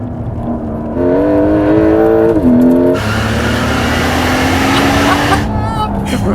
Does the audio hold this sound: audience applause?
no